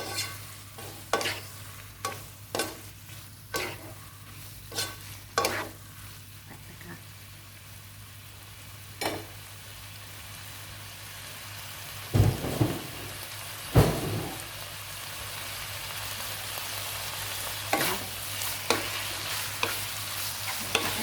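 Sliced pork belly stir-fried with shrimp paste over high heat sizzles steadily, broken by sharp spatula knocks and scrapes against the pan at an uneven rhythm, close and loud, with a couple of heavier clanks midway.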